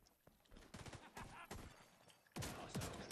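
Shotgun fire in the video game The Division 2 during a co-op firefight, a series of sharp, punchy blasts at irregular intervals, fairly close and loud, with a louder burst near the end.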